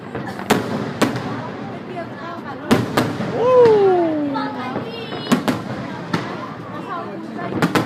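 Fireworks burst over Hoan Kiem Lake in Hanoi on the night of 10 October 2014, with more shells fired from the Gia Lam side. Sharp booms crack repeatedly at varying distances, along with a rising whistle, while nearby people talk and exclaim.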